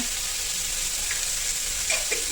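Cauliflower thokku sautés in a pan with a constant loud hissing sizzle, broken by a couple of soft spoon scrapes near the end.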